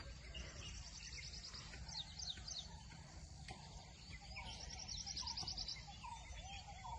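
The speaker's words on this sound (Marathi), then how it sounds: "मस्त सकाळचे पक्ष्यांचे वगैरे आवाज तुम्ही ऐकतच असाल" Faint morning birds chirp and trill in quick repeated bursts at a Konkan farm, some distant, over a steady low background hum with insects buzzing.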